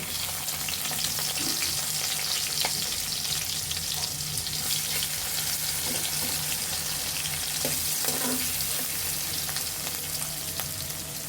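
Chopped onion frying in oil in a wok with cumin seeds, cooking for a soybean curry: a steady, dense sizzle runs the whole time with faint scattered crackles and no talking.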